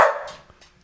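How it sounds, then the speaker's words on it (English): One loud, close bark from an excited dog opens the moment, then fades quickly into near silence. "Your dog is too excited."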